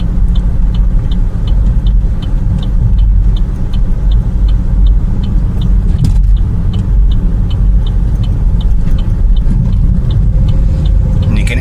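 Car engine heard from inside the vehicle, a steady loud rumble with the revs gradually rising as it works to hold a constant speed, a faint rhythmic ticking running throughout.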